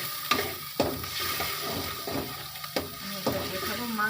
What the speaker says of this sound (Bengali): এই যে পাত্রে ভালোভাবে আমাদের এটা ভেজে নিতে হবে